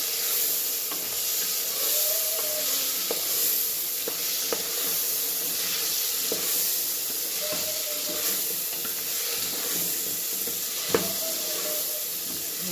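Potato pieces sizzle steadily in a hot pan with peanuts while masale bhat is being cooked, a constant frying hiss broken by occasional clinks and scrapes of stirring.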